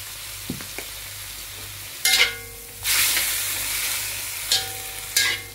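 Pancit noodles stirred in a hot pan, with a low sizzle underneath, a few scattered scrapes and several short bursts of stirring noise.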